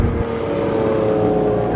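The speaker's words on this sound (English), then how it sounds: "Look, Ferrari." Ferrari sports car driving past on a road, a loud steady engine drone with a sustained tonal hum, close by and alone without talk.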